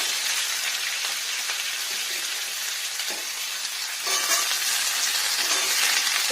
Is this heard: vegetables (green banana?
yes